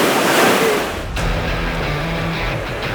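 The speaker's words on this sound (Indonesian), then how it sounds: "Jangan Pak, ombaknya di sini lumayan mantap." Surf rolls and crashes on rocks close by, a heavy wash of water with a low rumble and wind buffeting the microphone.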